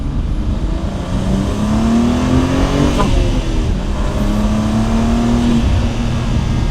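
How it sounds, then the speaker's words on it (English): A fast car accelerates hard at full throttle in second gear on a dry road, its engine note climbing steadily, loud and continuous, heard from inside the car with no talking. "I think here, because it's dry, we might actually get away with full throttle"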